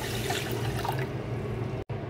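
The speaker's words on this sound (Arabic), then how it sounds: "وهنضيف على السكر كوباية الا ربع مية" Water is poured onto sugar in a pot to make syrup for a konafa tray, a steady close splashing pour lasting about two seconds before it cuts off abruptly.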